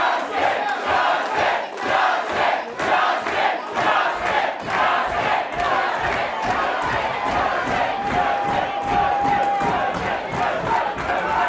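A wrestling crowd at an ICW Heavyweight Championship match roars and chants in loud, pulsing waves, the rhythmic surges repeating steadily for over ten seconds with no clear voice above the din.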